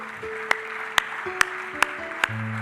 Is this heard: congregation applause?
yes